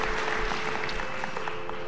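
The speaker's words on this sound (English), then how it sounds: "you all deserve a round of applause" Audience applause at a violin concert, a brief, steady wash of clapping from a hall crowd with a faint constant hum beneath it.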